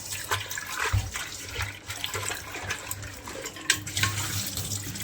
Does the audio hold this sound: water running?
yes